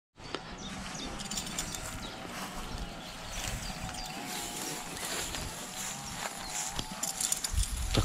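Mares walking with a steady clip-clop of hooves at close range, under a busy outdoor background and occasional rustling, at a horse sale.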